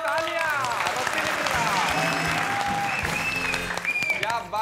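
Loud applause from a studio audience on a Bhojpuri quiz show, dense clapping throughout with overlapping voices and bright musical tones rising and falling above it.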